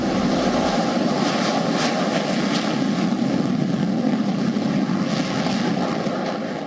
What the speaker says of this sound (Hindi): भारत के लड़ाकू विमान सुखोई 30 ने हवा में रिफ्यूलिंग की